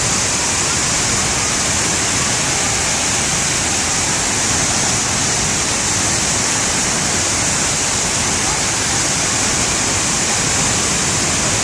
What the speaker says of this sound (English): The famed Arenal waterfall, so beautiful.